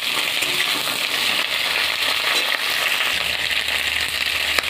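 Sliced ridge gourd pieces fry in hot oil in a pan with a steady, dense sizzle that stays even and close throughout, with no talking.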